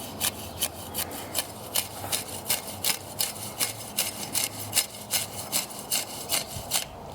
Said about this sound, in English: You can kind of hear as I was doing that, it was cutting through these roots and these rhizomes.